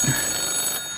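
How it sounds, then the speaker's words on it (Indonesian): A telephone rings in a film about moving Norway's gold reserves, a brief, moderately loud electronic ring with a steady high-pitched tone. "Keesokan paginya, Fredrik mendapatkan telepon langsung dari kepala bank Norwegia."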